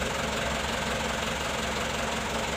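A Mitsubishi Canter truck engine runs at a steady, fairly quiet level with a rough, knocking hum and no clear rise in pitch.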